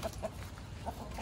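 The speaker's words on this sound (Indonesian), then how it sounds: "Ini ngapain lagi nih ayam nih?" Chickens cluck in a few short, close bursts spread over about a second, with steady low background noise and no talk.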